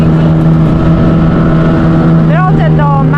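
A boat motoring through the harbour toward Budget Marina on St. Martin, its engine a loud steady drone with a low hum, while a person talks over it throughout.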